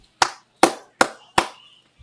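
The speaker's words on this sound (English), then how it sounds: "Sorry about the loud clap, y'all." Four loud, sharp hand claps close to the microphone, evenly spaced and snapping in quick succession with brief decay, alone with no talk.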